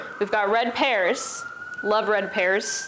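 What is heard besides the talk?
emergency vehicle sirens in city street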